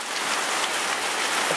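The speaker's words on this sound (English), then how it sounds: "Here comes the hail!" Hail pelting down during a thunderstorm, a loud, dense, steady roar of ice and rain hitting surfaces close by, unbroken throughout.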